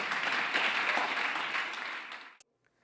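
A church congregation gives loud sustained applause that holds steady, then fades and cuts off into silence near the end.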